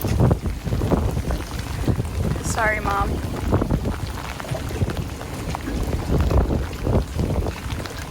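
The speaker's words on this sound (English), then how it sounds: "we're about to go through a torrential downpour. It's kind of already happening" Gusty wind roars and buffets across the open water around boats as a torrential downpour begins, a steady rush of noise, while people talk and call out close by.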